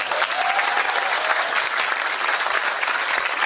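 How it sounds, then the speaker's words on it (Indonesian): Loud, dense audience applause at a humorous Islamic lecture, continuous clapping from a large crowd sustained evenly for several seconds with no speech on top. "Untuk tepuk tangan"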